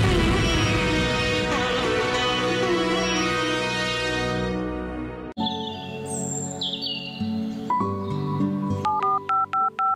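Telephone dialing on a Hindi farm-affairs TV call-in show: after a fading music sting, a caller's line connects with a run of clear, evenly spaced DTMF keypad tones, loud and close.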